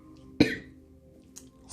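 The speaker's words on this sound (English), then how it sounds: "Sorry for the cough." A single sharp, loud cough from an allergy-troubled person, brief and close, followed by quiet room tone with a couple of faint soft noises.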